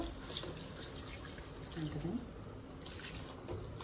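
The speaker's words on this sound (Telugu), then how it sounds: "ఇప్పుడు కొంచెం వాటర్ పోసుకున్నాం మనం దీంట్లో" Water trickles and splashes steadily into a cooking pot of mutton bones, with faint background noise, fairly quiet and close.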